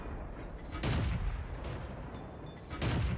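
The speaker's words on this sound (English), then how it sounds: "I am able to shoot at one of the enemy tanks, one of the heavies" Matilda tank's cannon firing in World of Tanks, two loud booming blasts roughly two seconds apart over a continuous rumbling game soundscape.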